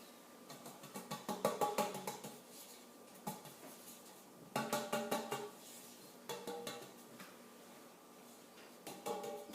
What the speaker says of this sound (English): you're going to shake this around in the pan, making sure it's even